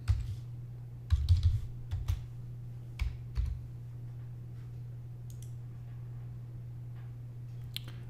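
Irregular clusters of soft key clicks as someone types on a computer keyboard entering customer names into route-scheduling software, close and quiet over a steady low electrical hum, with pauses between bursts.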